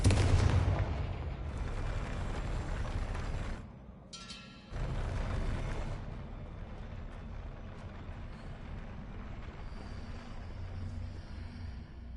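Confringo spell blasts in Hogwarts Legacy: a heavy, booming explosion with a rumbling tail, a brief drop-out, then another loud burst that fades into a low ambient wash.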